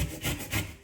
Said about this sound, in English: Just use the yellow zest, not the white part underneath